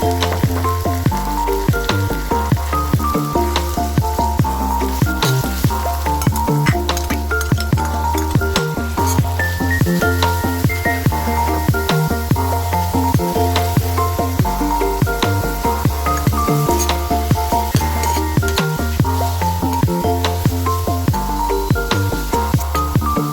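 Chopped vegetables fry with onion, ginger and garlic in hot oil, a loud, steady sizzle running continuously with frequent stirring scrapes and crackles.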